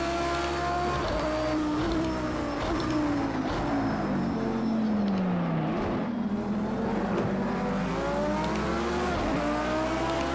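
Lamborghini Huracan race car in the Super Trofeo category of the racing game Project CARS 2, on the Algarve circuit: a loud, continuous engine drone that rises and falls in pitch through gear changes and corners, with no talk over it.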